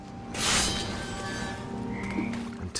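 Toads croak in the video game What Remains of Edith Finch, a dense chorus of rough croaks that stays loud and close for the whole stretch, with no talking over it.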